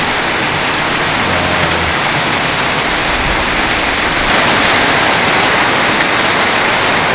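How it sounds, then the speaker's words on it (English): Heavy rain drums steadily on a roof on Koh Yao Yai island, a dense, loud, unbroken hiss with no let-up and no voices. "it is really starting to rain a lot"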